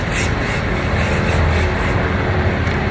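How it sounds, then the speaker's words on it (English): A Blossom Cosmetics makeup finishing spray gives a close, steady hiss for about three seconds with slight pulsing, and no voices over it. "spray my finishing spray so that my makeup will last for the whole day"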